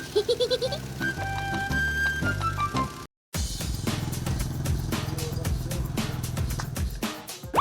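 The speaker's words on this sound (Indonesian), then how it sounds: "para mbek di sini mempunyai kebiasaan memakan apa saja karena tidak ada rumput" Goats bleat repeatedly on Bungin Island, a densely built seaside island village with no grass, their calls mixed with a dense, steady layer of other sound and broken by a brief silence.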